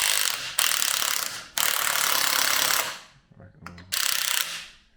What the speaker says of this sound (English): we find the impact driver is good for this because it sort of surprises it